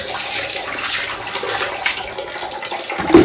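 Very hot water pours from a kitchen chimney part being cleaned, a close, steady rushing splash that holds evenly for a few seconds and ends in a louder burst.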